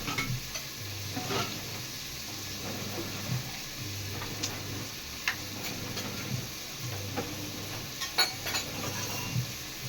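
Onions and curry leaves fry in a pan for a vegetarian curry, giving a steady, close sizzle broken by regular stirring scrapes and clicks, with no talking.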